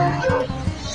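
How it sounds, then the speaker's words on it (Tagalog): A dog gives a couple of quick, close yelping barks in a short burst. "May marami palang aso dito."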